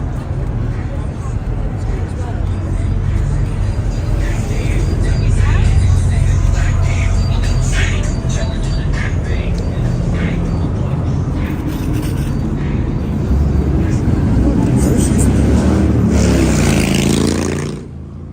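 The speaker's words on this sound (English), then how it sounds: "those motorcycles are loud" Loud engine roar and revving from motorcycles passing on the busy Las Vegas Strip, a continuous heavy rumble that fades near the end.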